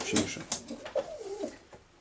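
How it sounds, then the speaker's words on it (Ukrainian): Soft pigeon coos rise and fall a few times at close range, mixed with faint voices in the background; fancy pigeons, including trumpeter breeds. "тупатая голубка"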